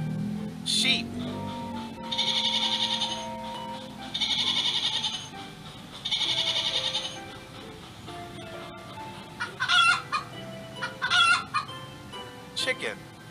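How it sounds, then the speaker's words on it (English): Chicken clucking and bleating farm-animal calls on a children's sounds lesson, several short bursts repeating in a rhythm, fairly loud and close, with brief sharp squawks toward the end. "Chicken. Chicken."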